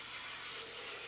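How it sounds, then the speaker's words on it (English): Cooking spray hisses into a baking pan for mac and cheese, a steady soft spray that runs unbroken for about a second, close and quiet. "I use a cooking spray. I spray down in the pan"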